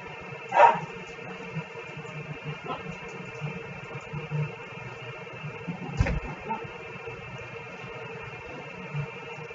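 Pet dogs barking indoors, a couple of faint distant yips and barks at the start and partway through against a quiet, humming room, with no talk.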